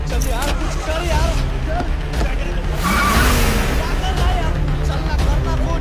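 Car engine revving hard with the clutch let out in a tense action scene, a rising mechanical whine over dense, loud roaring noise, with voices shouting underneath.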